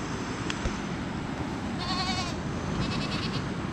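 A goat gives a wavering bleat or two over a steady background rumble, moderately close, with no one speaking.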